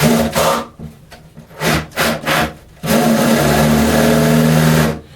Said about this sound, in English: we'll put the other bit in so we can countersink them